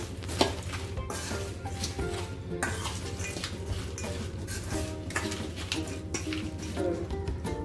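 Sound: mixing wafer bhel with lemon juice in a bowl

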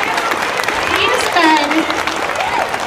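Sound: audience round of applause for the district cameraman

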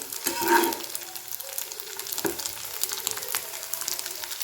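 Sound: stirring prawns frying in pan

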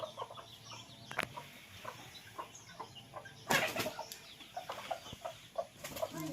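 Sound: rooster clucking

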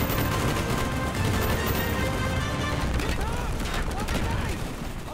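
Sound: machine gun fire in the video game Call of Duty: Black Ops

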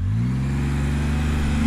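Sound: Can-Am Spyder F3 three-wheeler engine while riding

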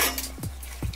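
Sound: stirring chickpea dish in pot

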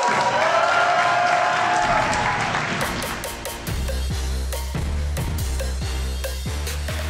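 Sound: wrestling event audience applauding and cheering

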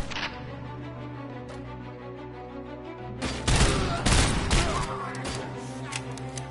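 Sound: gunshots in the video game Robocop: Rogue City

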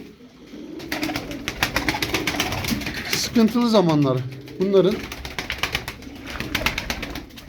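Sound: pigeons cooing

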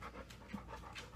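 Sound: puppy panting

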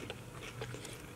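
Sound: crunchy bite of food

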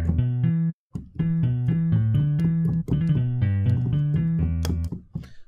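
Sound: Indie Fingers guitar sample, bass strings of guitar

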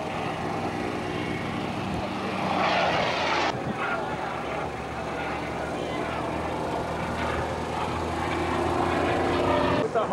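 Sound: aeroplane flying at an airshow

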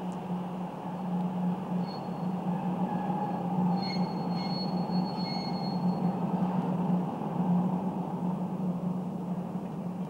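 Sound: Rheingold express train gliding into station hall

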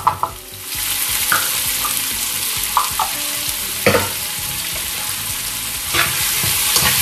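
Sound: sautéing onion in a pan

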